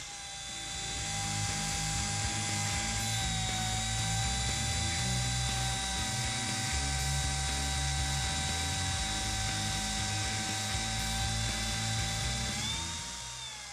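A steady mechanical whir of a drill running a small oil pump on an Aprilia RS 125 motorcycle, with a constant high whine and rattling low-end churn throughout, easing off near the end.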